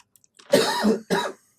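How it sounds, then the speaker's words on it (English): Two coughs close together, the first longer and harsher, the second shorter, loud and close with no talking. "A lot of coughs."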